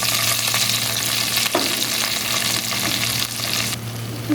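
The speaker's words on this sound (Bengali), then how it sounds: "পেঁয়াজ আর কাঁচামরিচ এগুলি একসাথে একটু ভেজে নিব আমি" Chopped onion and green chillies frying in hot oil, a loud, dense, continuous sizzle close by with a couple of stirring knocks, no talk.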